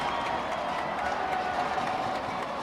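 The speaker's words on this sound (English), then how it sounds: "Crowd gets rowdy once again as we're now under 2 minutes to go" Crowd noise at a high school football game in the final two minutes of a Lehi at American Fork second-round playoff matchup, a steady, dense roar of voices and cheering heard from a distance, broad and even throughout.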